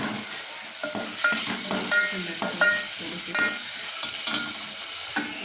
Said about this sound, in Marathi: त्याच्यामध्ये टाकला मसाला परतायला